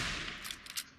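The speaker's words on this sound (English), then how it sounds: "I'll put the hunting rifle on." Rapid hunting rifle shots and impacts in Fallout 3 combat, a loud dense volley with a few sharper cracks toward the end.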